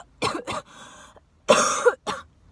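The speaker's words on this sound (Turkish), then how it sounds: "Normalde bu kadar öksürmüyordum bu arada." Several close, harsh coughs come in two bursts with a short breathy pause between them.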